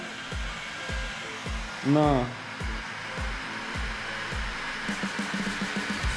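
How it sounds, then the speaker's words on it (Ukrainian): A heat gun set to about 650 degrees blows with a steady whooshing hiss while drying stored beehive frames, rhythmic thumping running underneath; a brief voice speaks partway through. "Так, включаю фен"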